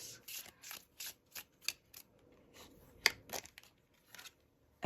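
A deck of tarot cards is shuffled close by in quick, crisp riffling bursts, a rapid series of flicks and snaps with short pauses between them, fairly quiet with no talking.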